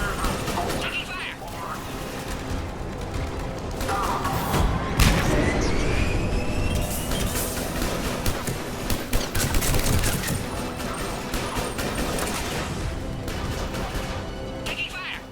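Sustained gunfire in a Mass Effect 3 firefight against Cerberus troops at a checkpoint, with dense overlapping bursts and shots under loud battle noise and intermittent voices throughout.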